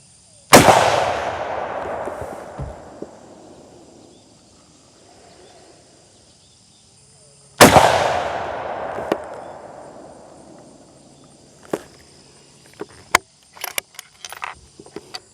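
Two loud, close rifle shots spaced about seven seconds apart, each with a long rolling echo, fired as a two-shot group during new-barrel break-in on an Icon rifle, followed by scattered metallic clicks and handling noises.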